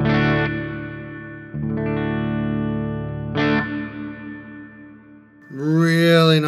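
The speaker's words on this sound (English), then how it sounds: "Really nice sounding reverb." Electric guitar chords through a Flamma FX20 reverb pedal, strummed three times, each blooming into a long reverberant decay, followed by a brief burst of swept, warbling effect noise.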